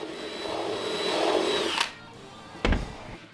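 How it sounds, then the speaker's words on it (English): A power drill whirs for a couple of seconds drilling holes in a wooden box, then stops, followed by a sharp knock and a short burst of noise. "I had to drill out holes for the power outlet and the connection wire"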